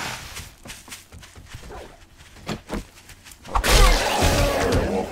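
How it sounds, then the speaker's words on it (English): Wolf-like animal in the survival game 7 Days To Die gives a short run of sharp barks and yelps at mid distance, followed by a louder burst of crashing, rough noise. "Wolf or something."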